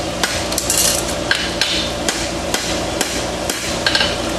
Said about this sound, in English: My hammer's going to draw in.